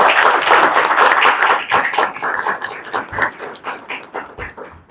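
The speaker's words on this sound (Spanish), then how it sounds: "Un fuerte aplauso para ellos," Audience applauding guests at the opening of an academic panel session on Amazon indigenous territories, steady dense clapping at first that thins into scattered claps and fades over five seconds.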